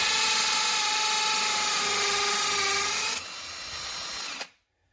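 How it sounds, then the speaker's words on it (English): A cordless drill in hammer action drills into a wall, whirring loudly and steadily at high speed, dropping slightly in pitch partway through before cutting off abruptly. "I've put my cordless drill onto hammer action"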